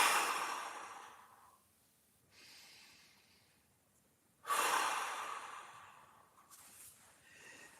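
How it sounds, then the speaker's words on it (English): Slow relaxed breaths taken lying prone, soft rushing exhales near the mic with quiet pauses between, three main breaths and a fainter fourth at the end. "take some relaxed breaths in the position"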